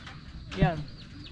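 A single short cluck from a chicken, fairly close, over a faint background hum.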